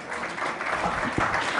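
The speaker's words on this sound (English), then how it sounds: "There's a lot of cheering and yelling going on." A crowd at a photography awards gala dinner breaks into sustained cheering and applause, a steady wash of clapping with scattered shouts and no speech.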